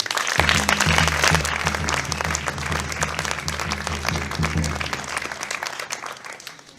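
A room bursts into applause, sustained clapping from many hands that slowly fades toward the end, with a low hum underneath.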